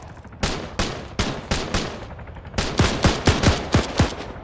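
Rapid bursts of automatic gunfire in a military shooter video game, a dozen or so sharp, loud shots in two clusters with a brief lull between them, heard alone without talk.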